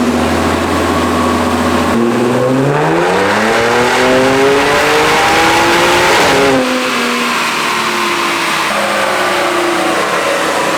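A Stage 2+ tuned Audi S4 runs on a dyno with a chiller running. The engine revs loudly and up close, climbing steadily in pitch for several seconds, then drops sharply and settles to a lower rev. There is no talking.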